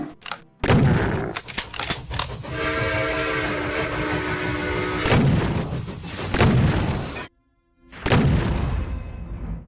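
A powerful weapon fires in the classic Doom video game, giving a loud, sustained roaring blast with a harsh tonal whine that cuts out abruptly, followed by a second shorter burst after a pause.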